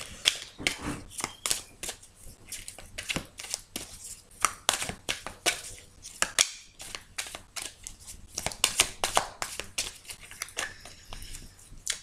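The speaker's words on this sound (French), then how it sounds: "on va battre ces cartes" Tarot cards being shuffled by hand, a dense run of crisp riffling snaps and flutters close up, continuous for the whole stretch with short pauses and no talk.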